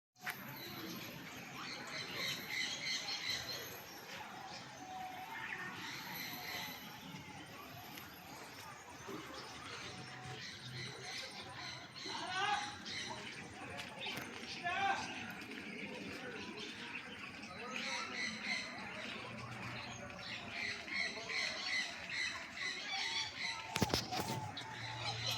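Birds call at Kothwalguda Eco Park near Hyderabad, a mix of chirps, tweets and a rooster-like crow scattered at a distance over outdoor ambience, while a person talks throughout.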